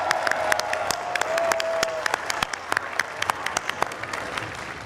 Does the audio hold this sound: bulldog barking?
no